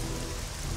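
Steady rain falls in a Battle Realms strategy game battle, a dense continuous patter with no breaks, fairly loud and even throughout the short moment, no voices.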